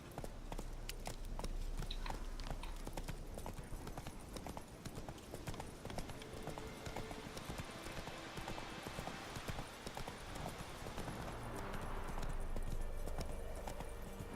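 Hooves of Roach, the horse in The Witcher 3, clip-clop in a steady rhythmic stream throughout, fairly close and continuous, with ambient game sound underneath.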